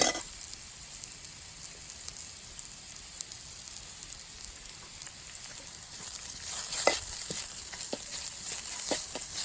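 Crushed ginger-garlic paste sizzles in hot oil for a beef roast, a steady quiet hiss with scattered sharp crackles and pops that grow a little busier toward the end; no one talks.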